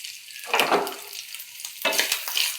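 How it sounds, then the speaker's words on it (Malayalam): Coconut pieces drop into hot oil with popping mustard seeds in a pan, giving two bursts of crackling sizzle with stirring scrapes between them, close by. "കടുക് വറുത്തതിലോട്ട് തേങ്ങാക്കൊത്തിട്ടു"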